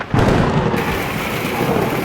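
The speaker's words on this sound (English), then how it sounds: "first rainstorm since I installed the roof, and you can see how the rain is coming somehow" Rainstorm with thunder, the first since a new roof went on, with rain blowing almost sideways: a loud continuous roar of rain and a deep thunder rumble begin abruptly after a brief quiet start and carry on steadily.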